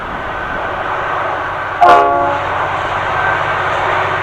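A train approaches loudly and close by with a steady, roaring rumble, and a brief horn-like tone sounds partway through before the rolling noise carries on.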